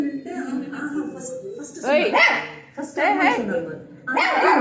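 Nearby dog barking in several loud bursts, mixed with a person speaking throughout and trying to calm it.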